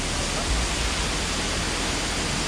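The waterfall at Nam Pien Yorlapa near Vientiane, Laos, gives a dense, even roar of rushing water that fills everything, loud and close, with no voices over it.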